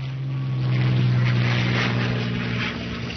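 World War II U.S. Navy airplane engines drone in a loud, steady propeller roar that holds constant throughout, dipping slightly near the end, with no voices over it.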